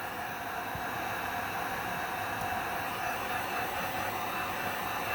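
A hair dryer running steadily throughout, a continuous even airy whoosh at moderate level, heard close with no pauses or talk.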